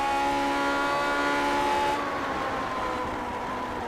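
A vintage Grand Prix Legends race car in iRacing at the Nordschleife holds a loud, steady high-revving engine whine, the pitch easing slightly as it shifts midway, with no talk over it.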